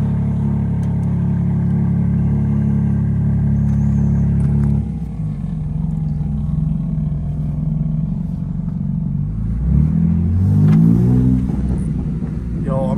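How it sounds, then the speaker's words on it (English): A BMW M3 Competition fitted with downpipes, driving with a loud, steady engine drone heard from inside the cabin, then a rising rev toward the end. "Driving the homies M3, bro, this thing."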